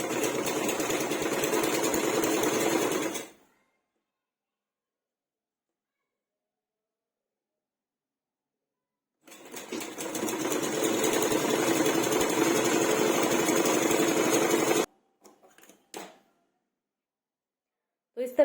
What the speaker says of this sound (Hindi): अब हम यहाँ पर स्टिच करते हैं।